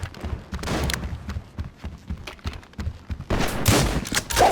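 Rapid gunfire in GTA 5 Online, including shotgun blasts during a team battle. Repeated sharp cracks come in quick bursts and grow into a heavier barrage toward the end, with no talk over them.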